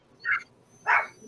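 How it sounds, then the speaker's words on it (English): A dog barks excitedly at home with two short, close, fairly loud barks about half a second apart and no talk. "I know she's home because the dog is going bananas."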